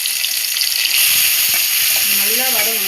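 Onions sizzle as they sauté in a pan for a chana dal kofta curry. The frying hiss stays bright and steady with a few soft stirring knocks. A faint voice murmurs near the end.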